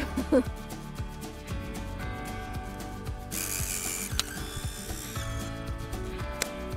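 A screwdriver presses the recessed eject button on a Mamiya RB67 Polaroid back, producing close clicks and mechanical ratcheting with a brief whirring stretch as the film is pushed out, no talking.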